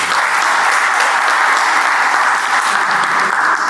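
An audience at a corporate governance panel gives steady, dense applause to welcome the next speaker, a close and even wash of clapping hands that lasts throughout.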